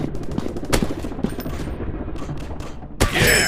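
Rapid gunfire from a first-person shooter video game, sounding as dense bursts of sharp shots with brief gaps and a heavier burst near the end, loud and close, with no talk.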